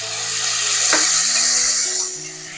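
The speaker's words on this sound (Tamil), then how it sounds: "வெங்காயம் கொஞ்சம் வதங்கட்டும்." Onions sautéing in a pan with a small piece of ginger, a steady broadband sizzle with a brief stir or scrape near the middle, close and fairly loud, no voices.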